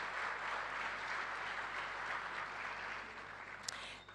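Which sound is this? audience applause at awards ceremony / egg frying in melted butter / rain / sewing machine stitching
audience applause at awards ceremony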